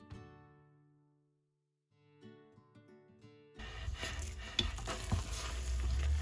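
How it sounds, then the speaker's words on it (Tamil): Cooked sweet pongal rice from a pressure cooker being stirred in a pot, a few soft scraping strokes early on, then a loud, dense stirring and sizzling sound that fills the second half up close. "ஸோ நம்ம இப்போ இதை வந்து நல்லா வந்து ஒரு குழையிற அளவுக்கு நல்லா வந்து கிளறிக்கலாம்."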